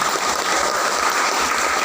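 Audience clapping at a DPR RI recess constituency meeting, a steady dense patter of many hands filling the room evenly without pause, with no talk on top.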